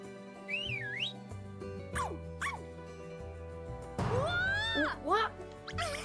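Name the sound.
whistling to call a dog in the video game Story of Seasons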